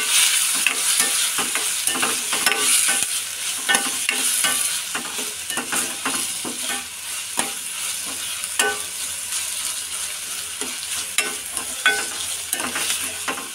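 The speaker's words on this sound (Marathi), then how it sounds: "टोमॅटो परतून घ्यायचं आहे।" Finely chopped tomato sautéed in oil for a moth bean curry, with a continuous close sizzle and frequent sharp scraping stirs against the pan, no voices.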